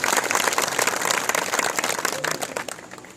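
A crowd at a farmers' gathering in Hanumangarh claps loudly to welcome JP Nadda, a dense, continuous burst of applause that tapers off toward the end.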